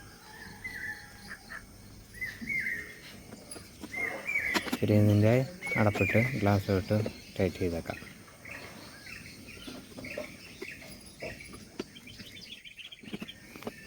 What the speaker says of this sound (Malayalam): അതാണ് ബാക്ക്ഗ്രൗണ്ടിലെ കിളികളുടെ രാവിലത്തെ ശബ്ദം.